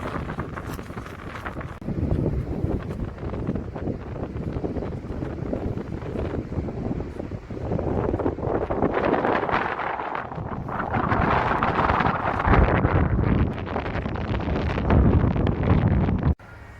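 Strong wind gusting at the seaside in Holland, buffeting the microphone in a loud, continuous roar that swells in the second half, with possible boat or water sounds mixed in and no clear talk.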